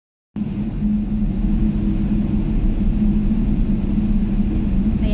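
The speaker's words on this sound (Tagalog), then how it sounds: "Pabilis na ng pabilis yung takbo ng eroplano guys." A passenger airplane accelerates down the runway on a flight from Kuwait to the Philippines, producing a steady, loud cabin rumble with a low engine drone that holds constant throughout, with no talking.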